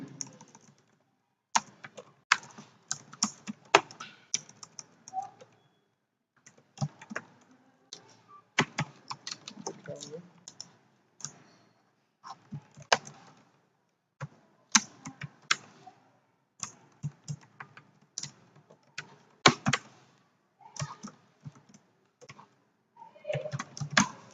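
Computer keyboard clattering steadily while code is typed, irregular bursts of close, crisp keystrokes with short pauses between runs, no talk over it.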